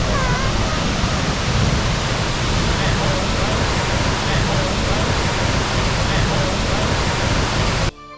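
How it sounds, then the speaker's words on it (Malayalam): Steady, dense roar of Soochipara waterfall in Wayanad, loud and continuous throughout, close by, cutting off abruptly at the very end. "അങ്ങനെ വെള്ളച്ചാട്ടത്തിനോട് നമ്മൾ വളരെ അടുത്തു"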